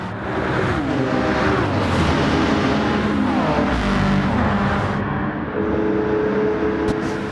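A V8-swapped Mazda MX5 Miata races in Gran Turismo 7, its engine roaring loud and close, climbing through revs with gear shifts and a steady high-speed drone.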